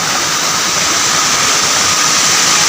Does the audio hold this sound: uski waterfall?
yes